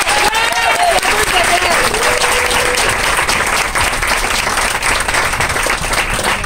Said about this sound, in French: On applaudit pour vrai!